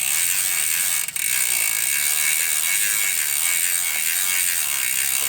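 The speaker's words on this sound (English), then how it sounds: "Now we're going to spin the pedal backwards and scrub off the chain." A bicycle freewheel ratchet clicks in a fast, continuous buzz as the pedal spins backwards, close and steady, with a brief break early on.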